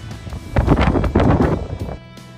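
Wind gusting across the upper deck of the Disney Magic cruise ship on an overcast day, loud buffeting rushes against the microphone in two strong bursts before easing off.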